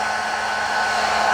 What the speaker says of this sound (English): If you're using the force dryer, of course, you use the force dryer far away from the dog's head